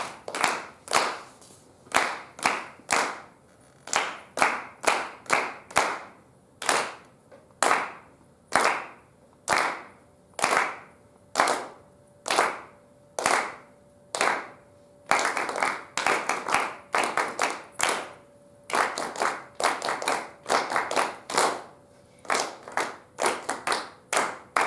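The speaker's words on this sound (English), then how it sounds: "let's clap through our rhythm board" A group of preschool children claps out rhythm patterns in a classroom music lesson. Crisp, close handclaps come in short spaced phrases and then turn into denser, quicker runs near the end, with almost no talking.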